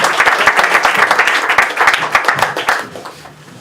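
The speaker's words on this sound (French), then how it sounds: "On peut l'applaudir, bravo." A studio audience on a French quiz game show claps loudly and densely for a contestant who answered correctly. The brisk applause holds steady, then tapers off at the end.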